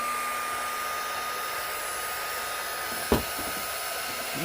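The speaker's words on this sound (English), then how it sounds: "I'm going to take my handy dandy heat gun" A heat gun blowing hot air over a Fendi, Alexander Wang or Stewart Weitzman shoe or bag being reshaped, a steady broadband whoosh that runs throughout with a brief louder bump near the end.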